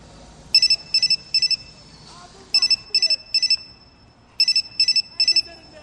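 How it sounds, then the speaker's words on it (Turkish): A phone ringing with three bursts of rapid electronic trills, each made of three quick warbling pulses, loud and near, with faint murmuring underneath between bursts. "Telefonum çalıyor."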